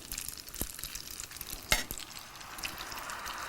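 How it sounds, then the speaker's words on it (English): Pasta sizzles and crackles softly in a hot pan while making spaghetti carbonara, with a few sharp clicks of a utensil stirring. "You see that sizzle?"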